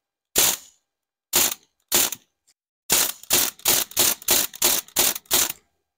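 Shots from a CO2 MP40 airsoft gun at a target: a few spaced sharp pops with short pauses, then a quick run of about eight evenly timed shots, loud and close.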